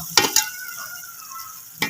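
Macaroni being stirred into masala in a hot frying pan: two quick scraping clacks of the spoon, a soft sizzle in between, then another scrape at the end, close up.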